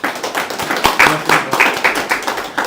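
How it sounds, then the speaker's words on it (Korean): A small group at a press conference opposing the relocation of the Suwon military airbase to Hwaseong claps loudly and up close in uneven bursts, with some talk mixed in. "다 같이 박수 한번 쳐주시면 감사하겠습니다"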